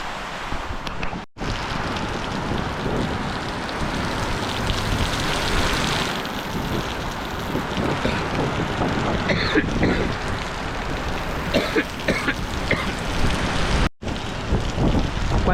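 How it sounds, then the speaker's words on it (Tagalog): Typhoon Uwan lashes down as heavy, dense rain mixed with gusting wind, a loud, unbroken roar with brief dropouts and shifting surges, and no voices heard. "humahagupit na dito yung bagyo. Grabe, sobrang lakas."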